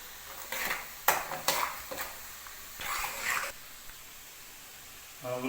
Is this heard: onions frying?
yes